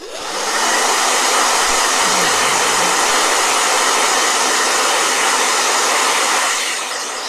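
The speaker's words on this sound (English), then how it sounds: "Blow dryer." A blow dryer runs at full power for several seconds: a loud, steady broadband whoosh that starts, holds constant and fades slightly at the end, with no talking.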